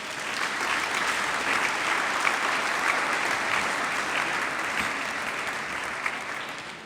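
A church congregation at a Sunday worship service applauds steadily for several seconds, a dense, even wash of many hands clapping in a large room with no break.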